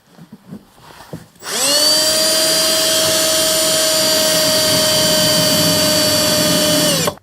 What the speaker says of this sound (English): go ahead and start drilling through the firewall